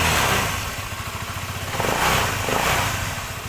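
A rebuilt Honda CBR motorcycle engine runs close up after a piston rebuild, idling with a rapid even pulse and two short throttle blips that swell and fade back to idle.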